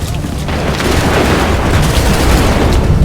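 Soldiers fire a gun volley in Assassin's Creed III. A loud, thick blast of gunfire swells in after a brief lead-in and rolls on as a continuous rumbling roar.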